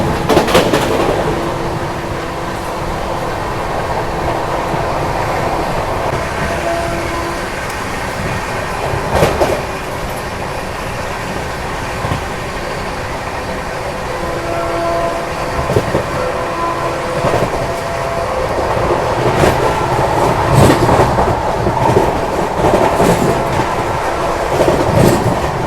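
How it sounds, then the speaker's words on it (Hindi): A Duronto Express passenger train runs at about 130 km/h, a loud, steady rumble with rhythmic wheel clatter and intermittent sharper rattles heard from on board, continuous throughout with no talking. "अभी 130 की स्पीड मेंटेन किए हुए अपनी दुरंतो एक्सप्रेस"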